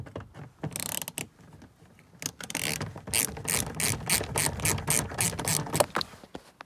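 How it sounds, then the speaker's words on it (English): A 7mm ratchet loosens a bolt in the interior of a 1999–2007 Chevy Silverado during a speaker install, giving close, crisp clicking in uneven bursts that quicken into rapid, rhythmic pawl clicks. "take your 7mm and there's this bolt right here. Just go ahead and get that off"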